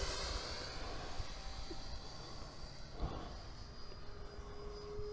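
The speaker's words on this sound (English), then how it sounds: "Cool little plane. It's a Freewing Cougar and an Ovonic 6500" Freewing Cougar RC jet, a small electric ducted-fan model on a 6S battery, flies past with a faint whooshing whine that rises and fades over a few seconds, heard from a distance outdoors.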